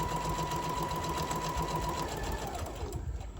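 A sewing machine runs in a fast, steady buzz while stitching a zipper pouch, nearby and continuous, then slows toward the end.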